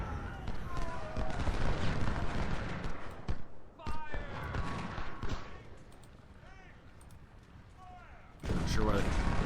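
Artillery booms and musket gunfire in the Ultimate General: Civil War game during the Shiloh battle, a dense rumbling barrage with sharp cracks and bursts, rising and falling under a loud mix of game effects.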